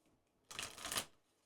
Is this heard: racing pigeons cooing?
no